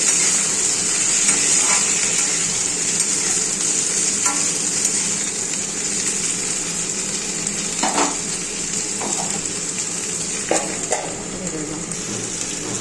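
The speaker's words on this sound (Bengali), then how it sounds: "শিমগুলো নাড়াচাড়া করে ঢেকে দেবো" Sliced flat beans fry in an open pan with a constant bright sizzle, while a spatula scrapes and clicks through them in scattered strokes, close and fairly loud.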